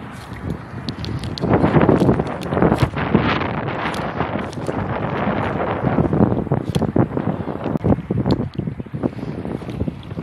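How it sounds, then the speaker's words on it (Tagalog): Strong wind at the Dammam seaside buffets the microphone in loud, rough gusts that rise and fall continuously, with no speech heard. "Ayan, mahangin dito."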